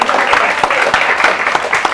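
An audience claps for a poet at an Azadi Ka Amrit Mahotsav poetry event, dense steady applause filling the hall, loud and close, with voices faintly mixed in.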